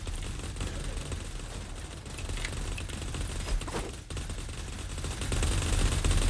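Rapid gunfire from shooting in the video game Blankos, a dense continuous crackle of shots running steadily throughout at a fairly even level, with no talk.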